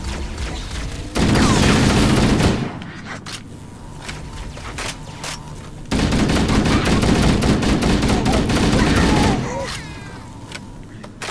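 Assault rifle fire in the Halo video game: two loud sustained bursts of rapid automatic shots, each lasting a second or more, separated by quieter game ambience and scattered single clicks.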